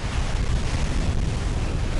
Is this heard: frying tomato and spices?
no